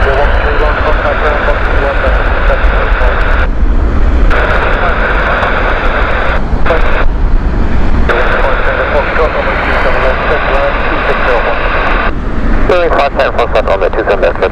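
A TAP Air Portugal Airbus A321neo on the Lisbon flight at Heathrow, its jet engines roaring loud and continuous close by, the broad rumble holding steady throughout.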